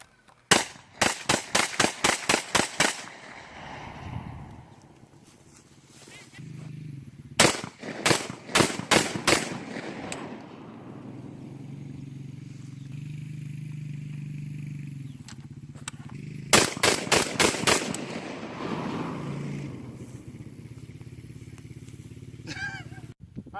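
An MKA 1919 shotgun fires at a match in three quick bursts of sharp, loud shots, several rapid rounds each, separated by quieter stretches of outdoor background rumble.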